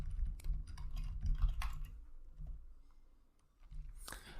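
Quiet keystrokes on a computer keyboard as a command is typed into an Ubuntu server terminal, a loose run of soft clicks with a brief pause before a final burst.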